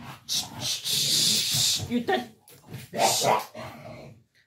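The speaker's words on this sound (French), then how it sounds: "du coup le chien s'excite un peu" An excited dog barks and yips in quick bursts indoors, close and moderately loud, mixed with whimpering and a voice talking over it.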